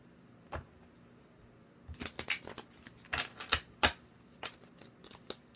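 Quick bursts of tarot cards riffling and snapping together, a few sharp flurries close to the microphone with quiet pauses between.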